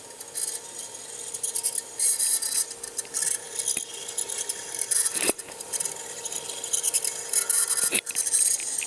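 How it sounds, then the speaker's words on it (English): A small LED carousel kit motor runs with its screws and springs scraping against the commutator rings, giving a steady close-up rasping, scratchy friction, broken by a couple of brief sharp clicks. "You can hear the screws scraping on the commutator rings, the springs scraping on the commutator rings"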